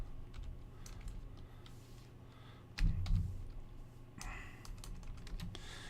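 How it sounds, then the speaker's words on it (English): Computer keyboard typing during a late-night eBay listing session, a steady patter of soft key clicks with a brief louder burst of thumps midway, fairly close and quiet, no talking. "You guys see my atrocious typing this late at night."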